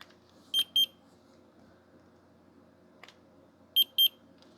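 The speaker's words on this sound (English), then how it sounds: "It should beep at me when it has a good temperature reading." A handheld no-touch infrared digital laser thermometer gives two short, crisp electronic beeps, then after a pause another pair of identical beeps, clear and close against a quiet background.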